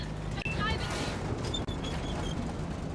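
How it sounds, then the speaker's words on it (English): Tank cannon fire in World of Tanks on console, with E50 and M46 tanks, a loud boom followed by rumbling battle noise and metallic pings, with someone talking over it. "And again, I fired a shot too late."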